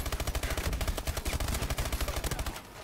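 A gun in the shooter game Call of Duty: Advanced Warfare fires a steady run of rapid shots, each pulse distinct and punchy, before the burst tapers off at the end.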